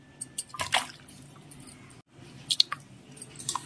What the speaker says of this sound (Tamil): ஃபஸ்ட்டு நான் அந்த தண்ணியில் மட்டன்லாம் சேர்த்துக்க போகிறேன்.